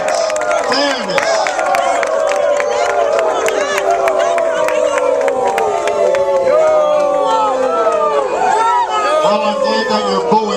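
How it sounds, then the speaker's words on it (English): Large crowd at a political rally for a mayoral race booing loudly and continuously, a dense wall of jeering voices, shouts and whistles with no letup. "I'm glad that you're booing fairness"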